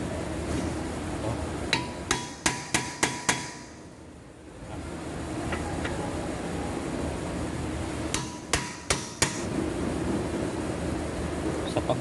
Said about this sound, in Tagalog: Pero pwede rin natin paluin lang ng martilyo kung makukuha siya.